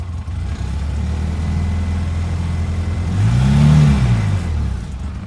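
A Polaris Ranger UTV's engine runs at a steady mechanical drone, then revs up and falls back down with a swelling whine, close and fairly loud.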